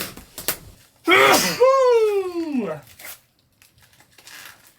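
One loud sneeze bursts out near the mic, with a sharp inhale and a drawn-out, whiny exhale, followed by quiet.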